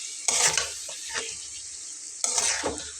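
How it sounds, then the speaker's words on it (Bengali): Potatoes for a katla fish curry are stirred in a hot pan, two loud bursts of sizzling and spatula scraping with quieter frying between them. "তো আমি একটু আলুটা সাবধানে নেড়ে দিচ্ছি যাতে করে ভেঙে না যায়"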